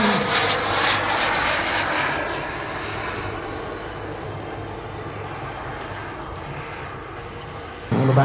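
A CARF Models MiG-17 RC jet model flying at an outdoor international RC airshow, its loud turbine roar rushing past and then settling into a steady whine at a distance, with a sharp rise right at the end.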